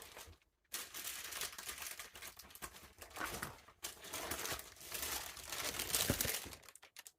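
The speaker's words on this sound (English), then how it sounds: "Sherwoods has wrapped it in their own lovely tissue paper" Tissue paper crinkles and rustles almost continuously, close and crisp, as a fabric parcel is unwrapped, with a few brief pauses between handfuls.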